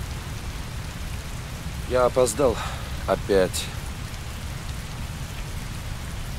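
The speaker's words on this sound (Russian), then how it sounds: "Такой сильный дождь." Heavy rain pours steadily in the video game Heavy Rain, a dense, constant hiss of falling water that lasts the whole way through, with a voice speaking briefly over it.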